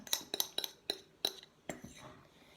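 A utensil clinks against a bowl while stirring egg and oil, a handful of sharp, light taps spaced unevenly and fairly quiet, with no talking.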